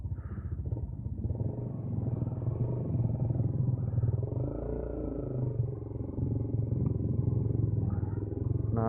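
A Yamaha New Vixion motorcycle riding through village streets at night, its engine giving a continuous close, loud, throbbing drone with a few small rises in revs.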